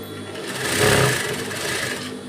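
A sewing machine runs briefly while stitching a fall onto a saree, a close whirring hum that swells and eases.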